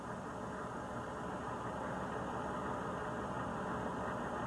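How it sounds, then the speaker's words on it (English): A HMMWV military vehicle engine idles steadily during electrical system troubleshooting. The broadband rumble stays constant and fairly close, with no change in speed and no voices. "start the engine and set the engine speed"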